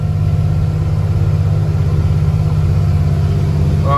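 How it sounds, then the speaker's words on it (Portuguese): A Ford Cargo truck engine labours steadily uphill in second low gear, a continuous deep diesel drone with a rhythmic low throb, close and loud throughout without revving. "O caminhão não tá fazendo aquele soquinho porque eu tô subindo aqui na segunda reduzida"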